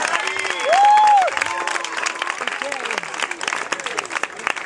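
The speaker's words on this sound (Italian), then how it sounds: "Un applauso ancora per loro e l'incoraggiamento." A crowd at a Dominican Power dance show applauds the dancers, a broad wash of clapping with a brief tonal whistle-like sound early on and voices talking over the steady clatter.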